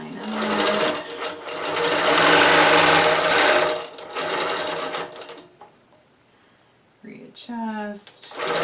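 A sewing machine back stitching during beginner ruler work quilting runs loud and steady for about five seconds, then stops, leaving a quiet pause before brief handling noises and a short burst of stitching at the end.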